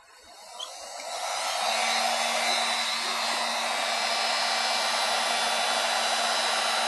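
A heat gun blows on an aluminum panel during dent repair with a DF 900 AluSpot aluminum repair station. It starts softer and swells within about a second and a half into a loud, steady airy roar with a faint tone underneath.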